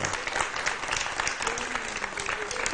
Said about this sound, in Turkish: tüp bebek uzmanı Profesör Doktor Alet Kamar bir alkış rica ediyorum hocama.